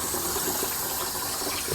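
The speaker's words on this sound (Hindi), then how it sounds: "पुलाव के लिए जो चावलों को है 2, 3, 4 पानियों में उसको अच्छे तरीके से धो लेना है" Rice being washed in water in a pot while preparing mutton pulao, a steady close splashing and swishing of water with no voices.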